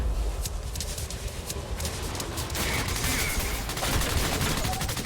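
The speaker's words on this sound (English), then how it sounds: "Who is shooting me?" Sustained video game gunfire from Quantum Break, dense and continuous with rapid bursts of automatic fire throughout, loud and steady with no clear breaks.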